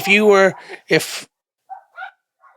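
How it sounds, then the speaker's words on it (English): Next-door dogs bark a few times nearby, with short barks and yips after a sharp opening burst, followed by softer distant yelps with gaps of silence between them. "they're our next door dogs"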